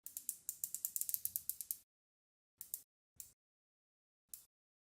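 Rotating bezel of a Sinn homage watch ratcheting through its 120 clicks: a rapid burst of crisp, close clicks, then silence broken by three more single clicks.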